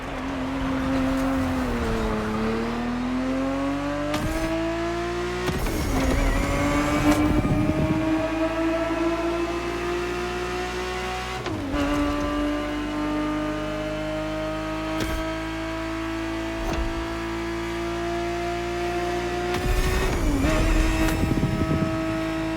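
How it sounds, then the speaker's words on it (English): Ferrari 365 GTB4 from The Crew Motorfest, its engine droning steadily with a rising pitch through the gears and several sharp drops at each upshift, loud and alone without any talking. "Ferrari 365 GTB4 is the perfect vehicle for you to experience Ferrari racing as it felt back in the 70s"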